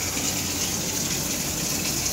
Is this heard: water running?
yes